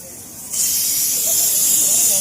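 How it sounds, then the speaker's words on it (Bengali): Steady loud hiss of steam escaping from pressure cookers frying meat at a market stall, rising sharply after a brief quieter start and holding as a continuous spray-like noise. "এইগুলো হচ্ছে আপনার প্রেসার কুকারে ভাজা চলছে"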